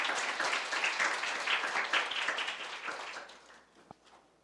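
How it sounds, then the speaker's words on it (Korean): An audience in a lecture hall claps steadily to welcome a university AI professor at a brain awareness week event, a dense, even applause that fades out toward the end. "큰 박수로 정희철 교수님을 맞아 주시기 바랍니다"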